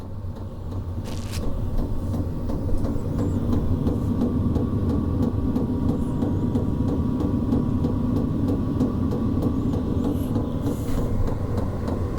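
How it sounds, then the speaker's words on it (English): A Vevor 8KW diesel heater, model ZM8006, burns and winds up with a steady, even roar and rumble that carries on unbroken throughout, with no one talking. "now she's burning. Some fuel came out of the exhaust, and yeah, it seems like she's winding up this time."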